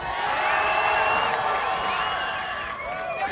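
A large live crowd at a streamer games competition cheers and whoops continuously for a team, a dense roar of many voices with high shouts riding on top.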